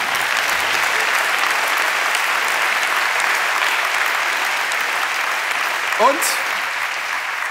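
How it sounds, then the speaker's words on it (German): Studio audience at a live talk show gives a big, sustained round of applause, a dense even roar of clapping lasting throughout, with a brief voice near the end. "mal einen riesen Applaus für unsere Hobby-Kommentatoren"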